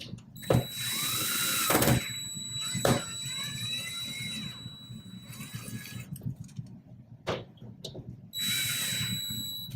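A power drill drives screws into a drywall patch in several short, rising whirring bursts separated by brief pauses, with faint mechanical clicks and a thin steady tone between runs.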